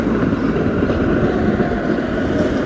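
A 1991 Budapest tram pulling away along a street, a steady low rumble of motor and wheels with a broad roar and some wind buffeting, continuous and fairly loud, no voices.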